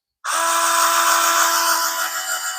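A power tool drives screws into a Rlaarlo JK-07 Pro RC car, a loud, close, high-pitched whir that starts abruptly and runs steadily, wavering slightly near the end.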